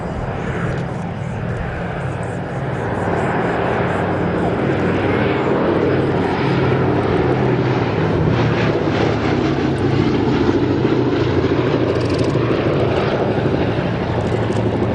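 Engines of the B-17G bomber Sally B drone at the Yeovilton air display, a loud sustained propeller roar that swells slightly partway through, with an announcer talking over it.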